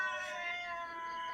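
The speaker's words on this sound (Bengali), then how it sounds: "এই বিলাইটাই দেখো বাইরে ম্যাও করতেছে" Cat meowing outside the house, one drawn-out, clear meow that is fairly close and rises and falls in pitch over about a second.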